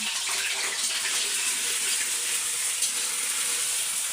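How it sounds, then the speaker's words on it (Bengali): Potato pieces go into hot oil in a wok and set off a soft, continuous bubbling sizzle that stays fairly quiet and even throughout. "তার জন্য কড়াইয়ে তেল দিয়ে দিয়েছি, তেলটা গরম হয়ে গেছে। এখন আলুগুলো দিয়ে দিলাম।"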